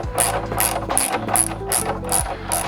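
A hand ratchet clicks steadily while tightening the front stay mount of a Hepco & Becker solid guard on a Triumph Tiger 900 motorcycle, with loud, close, evenly spaced strokes and nobody talking.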